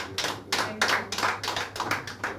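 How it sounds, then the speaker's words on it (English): Applause from an audience at an online pitch event, with several bursts of clapping in a quick irregular rhythm, fairly close and steady, over a low constant hum. "we gotta give her another round of applause."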